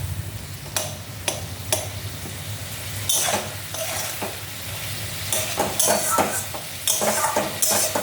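Spices and red chili are stirred and fried in a pan, with a soft background sizzle broken by repeated scraping clinks of a spoon against the metal, irregular and close.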